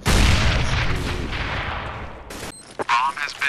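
Loud video-game gunfire opens with a heavy burst of shots and booming reports that trail off, followed by a couple of sharper, brief shots near the end.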